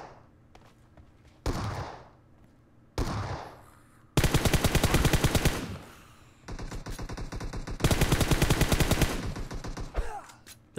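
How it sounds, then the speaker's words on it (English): Bursts of close gunfire from the shotgun-heavy zombie mode in PUBG Mobile, first a few single loud blasts, then long rapid sustained volleys, with faint footsteps in the gaps. "That guy was shooting shotguns at the zombies"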